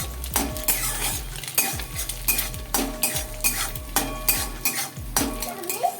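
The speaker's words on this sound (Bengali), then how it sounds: "নুন দিয়ে এবার একটু নড়াচড়া" Metal utensil stirring boiled Maggi noodles with salt in a pan, a run of close, loud scraping strokes and clinks in a steady rhythm over a low background hum.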